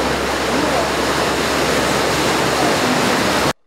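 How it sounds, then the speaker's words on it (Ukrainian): Rainwater after heavy downpours floods yards and runs along streets in Uzhhorod, a dense, continuous rushing and gushing wash that stays loud and even before cutting off abruptly. "Вода стоїть у дворах та тече дорогами."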